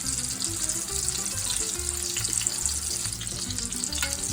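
Meatballs and Italian sausage sear in a hot frying pan, giving a steady, close crackling sizzle that runs unbroken throughout.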